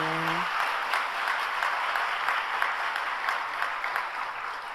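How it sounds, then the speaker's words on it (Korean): Warm applause from a church congregation at a Sunday worship service, a steady, dense clapping that fills the hall throughout, with a brief voice at the very start. "자리에서 일어나실 때 따뜻한 박수로 환영해 주시기 바랍니다."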